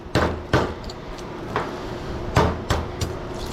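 Tapping on an HID light ballast during scrap teardown: a handful of sharp, irregular metallic knocks spaced across a few seconds, fairly close, with low rumbling handling noise between them.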